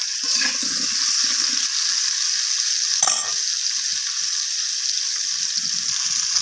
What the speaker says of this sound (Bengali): তো আর কিছুটা সর্ষের তেল আমি এখানে অ্যাড করে দিলাম